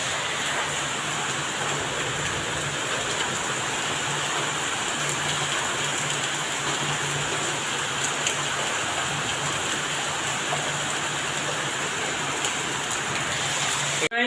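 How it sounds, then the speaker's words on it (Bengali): Heavy rain falls steadily outside at night, a dense, unbroken roar with no pauses that stays even throughout. "বৃষ্টি।"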